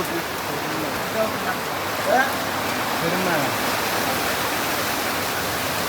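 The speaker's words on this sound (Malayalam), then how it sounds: "എന്താ മഴ" Heavy rain pours down in a dense, unbroken hiss at an even, loud level, with faint voices heard briefly under the downpour.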